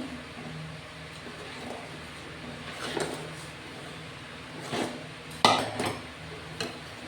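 Rice flour being stirred into water in a pot, soft scraping and a few sharp metal clinks of a spoon against the pot over a quiet background hiss.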